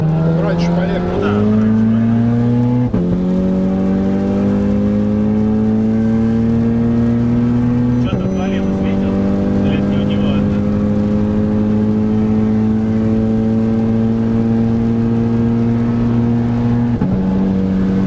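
Turbocharged cars, such as a Skoda Superb 2.0T 4x4, BMW X3 M40d, tuned Octavia A7 1.8T and Audi A3 2.0T, launch hard in a drag race. Loud, close engine roar climbs through several gear shifts, with voices talking over it.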